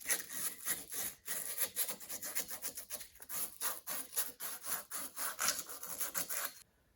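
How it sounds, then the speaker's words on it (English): Emery cloth rubbed briskly back and forth to clean metal parts from a 1956 Dodge H6 truck, a steady run of rasping scrubbing strokes, close and alone, ending abruptly. "Now we'll clean these out with emery cloth."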